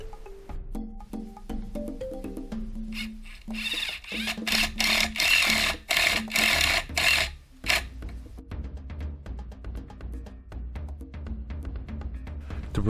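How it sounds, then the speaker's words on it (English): A rasp scrapes across a drywall surface in a cluster of loud, close, gritty strokes, set among quieter taps and handling noises. "the final part is to smooth the drywall surface with a rasp"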